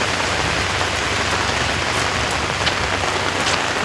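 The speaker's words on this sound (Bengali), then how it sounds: "বৃষ্টি হইতেছে প্রচণ্ড।" Heavy rain pouring down at night in Seoul, a dense, steady hiss of drops drumming on surfaces with no letup, loud and close.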